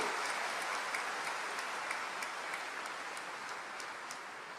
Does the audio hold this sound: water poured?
no